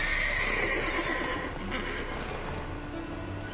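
Horses in The Witcher 3 video game whinny loudly up close, with hoof clip-clop under the neighing.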